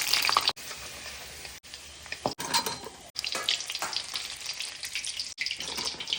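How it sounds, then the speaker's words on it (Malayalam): Cucumber ada frying in hot oil in a pan, giving a steady close sizzle with crackling bursts, broken by several brief near-silent gaps, with no talk. "ഓയിൽ ചൂടായി വന്നതിന് ശേഷം നമുക്കിതാ അട ഇട്ട് കൊടുക്കാം."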